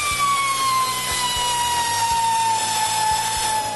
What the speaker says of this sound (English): I improvise an angle drill to do it.